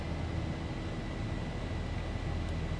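Boeing 737-800 engines in the X-Plane 11 flight simulator, a broad, steady jet roar and rumble held at a constant level during a thrust reduction after takeoff, with no voices.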